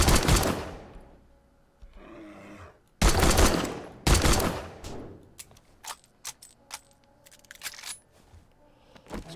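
Pistol shots from the video game 7 Days To Die ring out in loud bursts, two heavy early blasts followed by a quicker run of sharp, snappy shots with short pauses between them, and no talk over them.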